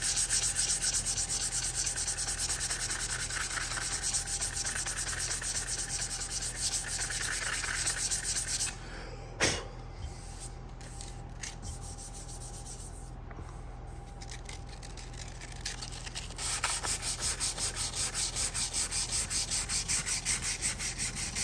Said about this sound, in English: I'll come in here with probably some 320 grit sandpaper